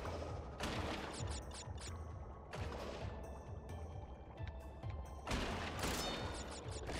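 Missiles firing in Crash Bandicoot 3, a string of repeated blasts and crashing hits over continuous game music, fairly faint throughout, with a few louder bursts.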